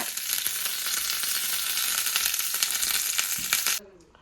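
Mushrooms hit hot oil in a pan with a loud, dense sizzle, and the spatter crackles continuously for several seconds before cutting off suddenly.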